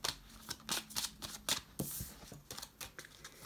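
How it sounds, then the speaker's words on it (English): Tarot cards being shuffled by hand in a quiet room, a run of crisp riffling bursts and soft slaps at an irregular, quick rhythm, close and clear with no talk. "I like to shuffle these back in while we're on camera"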